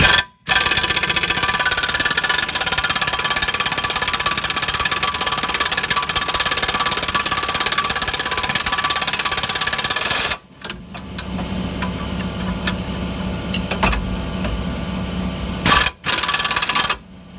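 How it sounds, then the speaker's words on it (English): An air impact wrench rattles loudly and continuously on the upper control arm bolts of a 1997-2001 Jeep Cherokee XJ, then briefly stops and runs again with a lower, steadier hammering, close up. "I'm going to take this one off with the air wrench"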